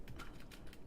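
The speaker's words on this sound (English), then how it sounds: "We've now heard keyboard typing." Typing on a computer keyboard: a brief burst of several quick, light key clicks in an uneven rhythm, close and fairly quiet.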